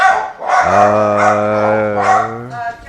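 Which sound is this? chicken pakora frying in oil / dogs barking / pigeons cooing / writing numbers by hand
dogs barking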